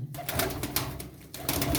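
Pigeons in a loft housing a dozen birds, with a low, continuous cooing murmur close by, steady across the whole stretch with slight swells and no talk.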